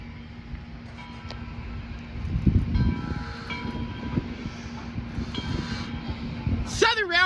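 A train pulls into the platform at the Tennessee Valley Railroad Museum, with a steady rolling rumble under people talking and a loud rising whistle or horn blast near the end.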